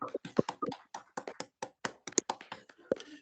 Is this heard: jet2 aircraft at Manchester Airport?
no